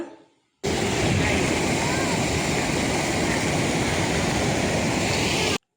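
A flooded, overflowing stream makes a loud, continuous rushing roar of water that starts suddenly and holds steady, close by and powerful, with no talking over it.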